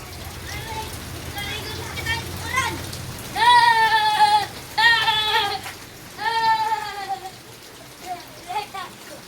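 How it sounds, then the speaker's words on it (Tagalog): Steady rain patters in the background while people talk over it at close range. "Hina naman ang ulan, kuya."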